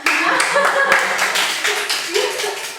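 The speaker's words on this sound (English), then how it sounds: "Actually, this is a wonderful class, guys. Let's applause." A class applauds together, a dense patter of many hands clapping at moderate loudness with voices and chatter mixed in throughout.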